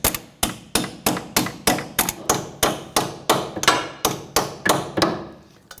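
A hammer swung again and again to knock out the front wheel hub on a 2011-2015 Kia Sorento, about fourteen sharp metallic blows in a steady rhythm, each ringing briefly, close and loud with no voices.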